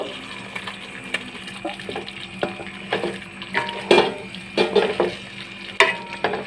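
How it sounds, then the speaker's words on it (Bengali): Eggs added to a pan of fried masala for Bengali egg korma, with close sizzling and frying, scattered stirring clatters and a few sharper knocks against the pan. "আর এখন আমি ডিমগুলো দেব"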